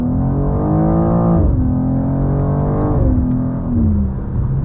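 A 2024 BMW M2, rear-wheel drive, accelerates hard from inside the cabin: a loud, steady engine roar climbs in pitch through two quick upshifts, each gear change dropping the tone before it rises again.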